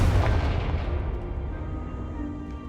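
A Confringo spell blast in the Hogwarts Legacy video game lands as a single heavy boom with a deep rumbling tail that slowly fades over a couple of seconds, loud and alone.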